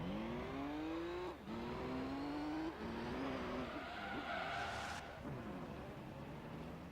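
Race cars roar through a lap in the Gran Turismo 3 video game, engines revving up and shifting in rising sweeps, with tires squealing and skidding, loud and continuous throughout.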